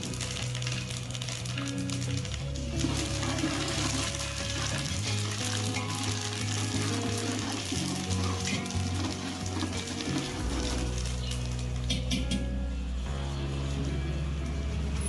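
Lentils fry in oil for a temple-style sweet pongal, giving a continuous close sizzle with occasional stirring scrapes and no talking.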